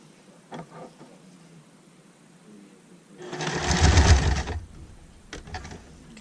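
A home sewing machine stitches around the neck of a cotton baby bib, a short burst of motor whir and needle rattle after quiet handling noises, then falling silent.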